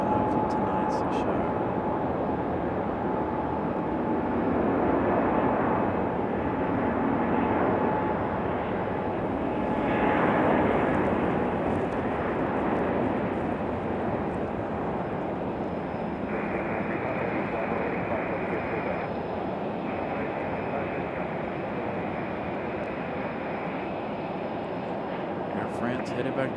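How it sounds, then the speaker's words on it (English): An Air France airliner departs Raleigh-Durham airport bound for Paris Charles de Gaulle, its engines producing a sustained, broad roar that swells and lingers over the whole stretch, with faint voices in the background. "Gonna end the show here with Air France departure."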